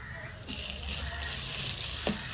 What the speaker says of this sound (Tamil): ஒரு 5 நிமிஷமாவது இஞ்சி உள்ளியே வதக்கணும்